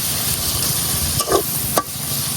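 Small pond shrimp in a cooked-down masala sizzle steadily as taro stalks are stirred in, with a continuous frying hiss broken by a few soft scraping clicks of the spoon in the pan.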